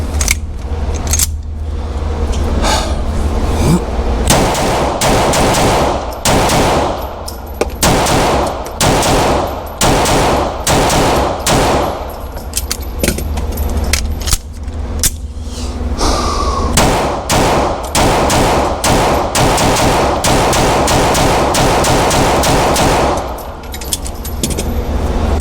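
Smith & Wesson M&P Metal Carry Comp pistol fired at a target 5 yards away, loud sharp shots in a quickening string of rapid fire, close and dominant throughout.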